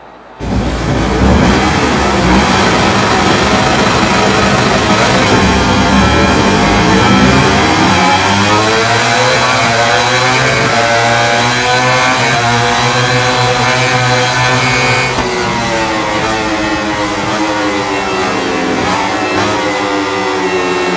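MotoGP racing motorcycles, including a 2007 Fiat Yamaha YZR-M1, power toward the San Donato corner at Mugello, their engines loud and continuous with rising and falling pitch as the bikes accelerate and shift.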